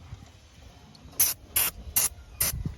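Four short bursts of aerosol lubricant sprayed onto the trunk springs of a Mercedes-Benz 190 (W201), loud hissy puffs close up, evenly spaced after a quiet start, with no talking.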